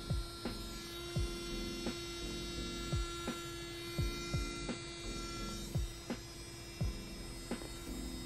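A Melodysusie Atena cordless nail drill spins at its top speed of 28,000 RPM, giving a steady, faint electric whine that runs the whole time, with soft clicks at regular intervals.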